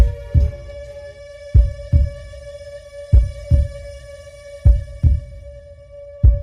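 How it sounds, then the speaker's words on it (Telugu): A heartbeat sound effect in a Telugu TV serial thumps in slow, evenly spaced double beats over a sustained musical hum, loud and close, with no voices. "నీ హార్ట్ బీట్ వినపడుతుంది"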